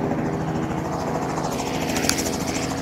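A cheap sightseeing helicopter at Ushuaia in Tierra del Fuego, Patagonia, gives a steady, loud rotor and engine drone with a rapid rhythmic chop that continues unbroken throughout.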